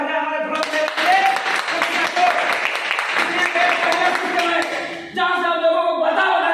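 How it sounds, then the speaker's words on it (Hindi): Audience applause at a business income-plan presentation: a burst of clapping from a gathered crowd, mixed with sustained tonal sound like music or voices, briefly dipping before resuming. "एक बार जोरदार तालियां हो जाए हमारे प्रोडक्ट के लिए"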